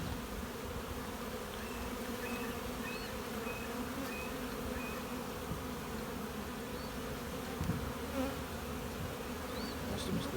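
Honey bees buzz steadily around a frame lifted from a nuc hive, a dense, continuous close drone of many insects with no voices.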